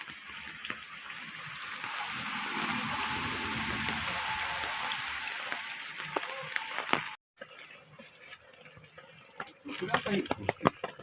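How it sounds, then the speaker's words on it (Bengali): Heavy rain falls steadily near a village shop, a dense hiss that holds for several seconds, then breaks briefly and returns with sharp drips and clatters toward the end. "অনেক বৃষ্টি হচ্ছে।"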